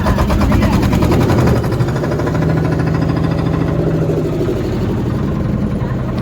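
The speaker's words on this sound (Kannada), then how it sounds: "ಸ್ಟಾರ್ಟ್ ಆಯ್ತು ನಮ್ಮ ಬೋಟ್" A boat's engine, just started for a family trip leaving an island, runs loud and close with a steady droning hum and a rough throbbing rhythm that holds throughout.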